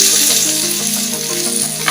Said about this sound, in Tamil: நறுக்கி வச்ச வெண்டைக்காய் இதில் நான் போடுறேன்